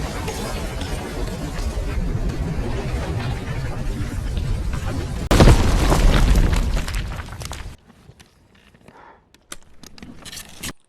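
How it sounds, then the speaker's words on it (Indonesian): A bomb explodes in a war-film scene from The Hurt Locker. A tense rumbling bed breaks into a sudden loud boom, followed by a roaring blast wash that cuts to near silence with scattered faint debris clatter. "bom yang ada di tubuh si bapak itu akhirnya meledak"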